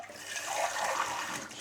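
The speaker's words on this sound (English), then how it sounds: "give that a wee rinse." A part of a DeLonghi Stilosa espresso machine rinsed under running water, a brief soft hiss and splash heard faintly at a distance.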